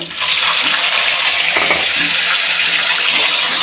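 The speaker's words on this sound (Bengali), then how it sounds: "একটু ভেজে নেব ক্যাপসিকামটা" Three kinds of capsicum frying in hot oil that was just used for fish, a steady, loud, broadband sizzle with faint stirring clatter running throughout.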